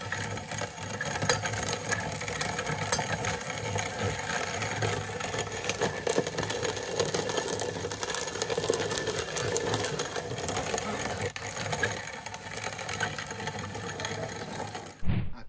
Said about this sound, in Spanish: echamos el maíz a la tolva de la molidora. Ahí está. Y ahora sí, a moler.